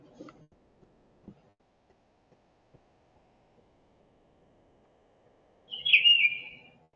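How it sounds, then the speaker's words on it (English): A CapCut app notification on a phone sounds as a short, bright, bird-like chirp near the end, after a long stretch of near silence with faint ticks. "that's my CapCut notification on my phone"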